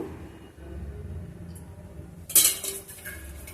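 A metal kadai set down on a gas stove, a quiet low hum and faint handling noises followed by one sharp, bright metallic clank and a short ringing clatter.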